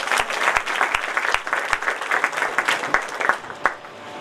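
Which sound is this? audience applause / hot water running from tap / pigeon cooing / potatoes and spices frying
audience applause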